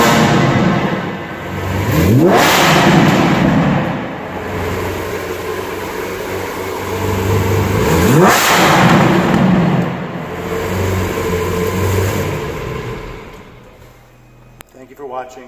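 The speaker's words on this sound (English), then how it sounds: "now we're going to start it up and see what the engine sounds like." A 2017 Lamborghini Aventador S engine fires and revs hard twice, each rise climbing sharply in pitch before settling back to a loud, close idle.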